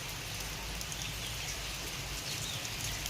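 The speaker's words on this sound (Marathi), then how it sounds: "ह्या पावसानं जे आहे ना तर खूप वैताग दिलेला आहे बघा कंटिन्यू चालू आहे" Steady, continuous rain patters on surfaces with a constant hiss, unbroken throughout and with no voices.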